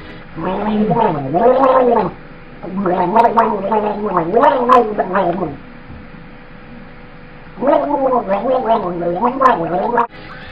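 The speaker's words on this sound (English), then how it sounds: "when you're talking while pretty much gargling at the same time, things are going to get lost in translation" A gurgling, bubbly voice of an amoeba boss character from the Whoopass Stew video game speaks in wobbly, warbling phrases, loud and close, in three bursts separated by short pauses.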